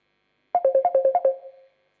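A mobile phone ringtone rings out in a quick burst of about eight bright, evenly spaced tones with a short fading tail, loud and clear against silence.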